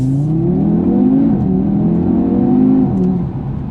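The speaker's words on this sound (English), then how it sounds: "I think that 5-cylinder engine just sounds superb." A 2019 Audi TT RS five-cylinder engine revs loudly and steadily, its pitch rising and settling, close by with no talking.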